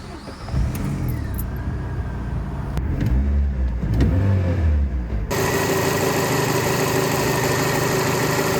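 A Peugeot EW10 J4S engine, a 2-litre 16-valve dual overhead cam four-cylinder, starts and runs close by. Low churning and rising engine tones lead into an abrupt shift to a steady, buzzing idle that holds to the end.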